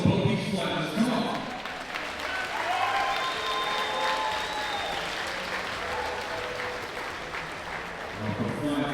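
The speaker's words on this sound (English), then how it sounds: "Ladies and gentlemen, a round of applause for both these fighters." Arena crowd at a Muay Thai fight night applauds both 66kg fighters, a broad, sustained roll of clapping with cheers and whistles over it, steady and moderately distant, swelling slightly at the end.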